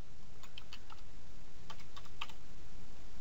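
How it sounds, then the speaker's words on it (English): Typing on a computer keyboard in an office setting, a few light irregular key clicks over steady background hiss, close and fairly quiet. "So we're going to type in invoice 123"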